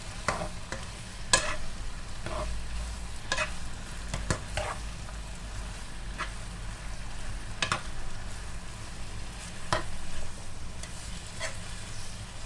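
Minced meat sizzles and fries in a pan for fried white bee hoon, with a steady low frying hiss under repeated scraping strokes of stirring at an irregular rhythm, close and fairly quiet, with no talking.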